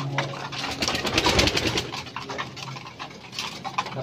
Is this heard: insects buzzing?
no